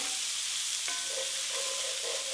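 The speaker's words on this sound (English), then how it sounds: "we're gonna add in our scallions and our jalapeno. Stir that around a little bit." Scallions and jalapeno sizzling in chicken juices and fat in a single pan, a loud, dense, continuous hiss with a light clink of stirring partway through.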